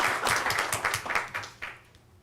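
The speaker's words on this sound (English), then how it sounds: "let's give our students, families, and staff a round of applause" Audience applause at a school board meeting: a burst of clapping from a modest crowd that thins and fades out within a couple of seconds.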